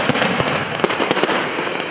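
A festive fireworks salute over Anapa crackles and pops in a dense, continuous barrage of sharp bangs, loud and steady throughout with no voices.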